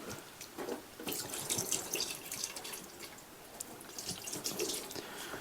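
Water glugs and splashes as it is poured from a jug into the cooling system of a 1979 Chevrolet K20 square-body truck, an uneven gurgling stream close by with bubbling surges.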